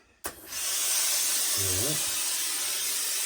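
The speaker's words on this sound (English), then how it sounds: "I might give it some steam first of all" After a sharp click, a steamer sends a loud, steady hiss of steam onto a fur felt Homburg hat during restoration, continuing close and unbroken to the end, with a brief voice in the middle.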